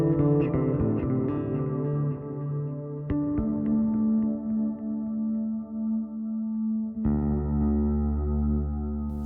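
Electric bass played through a Darkglass Kaamos effects pedal with the blend dialed back, effects on the clean side of the distorted signal: sustained chorused, echoing notes with a few plucked attacks, then a fresh low note rings out near the end.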